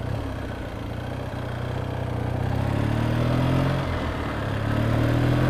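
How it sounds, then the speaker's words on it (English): Triumph T140 motorcycle engine running with bigger main jets, a steady low droning intake hum from the air filter boxes, continuous and fairly loud with a slight rise and fall in pitch, no talk. "drone noise from the filter boxes, where you can hear the air being sucked in"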